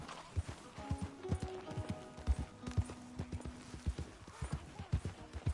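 Horse hooves clip-clopping on the ground in Red Dead Redemption 2, a steady close rhythm of hollow knocks at walking pace, with faint tonal game sounds underneath.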